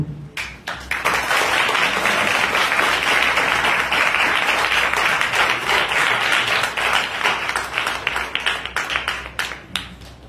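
A church youth meeting audience applauds, a dense, steady roar of many hands clapping that fills about nine seconds before thinning into scattered individual claps at the end.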